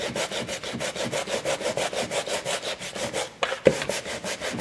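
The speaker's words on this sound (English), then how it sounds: "So I want a few more heavy sands. I want to get that background." Rhythmic heavy sanding scrapes back and forth across a painted wooden stove top cover noodle board, with a quick, steady stroke pattern that pauses briefly before resuming with hard, close rubbing.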